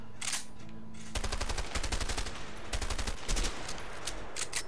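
Repeated gunfire in the co-op video game A Way Out, where a shotgun is chosen: loud, close bursts of rapid shots in several clusters over a steady game background, with no talking.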